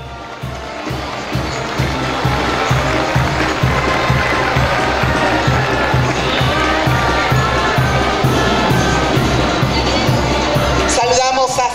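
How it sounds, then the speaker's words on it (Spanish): A parade crowd cheers and claps loudly as a workers' union contingent marches past, with shouts and a thumping rhythmic beat underneath, sustained and close throughout. "Fuerte ese aplauso, que se escuche."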